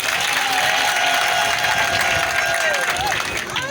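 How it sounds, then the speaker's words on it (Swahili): A crowd at a provincial assembly session in South Kivu applauds army leaders, producing sustained clapping mixed with crowd noise and a voice heard faintly through it. "nao tunawaomba wapigie makofi"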